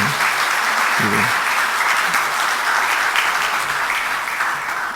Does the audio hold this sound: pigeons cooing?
no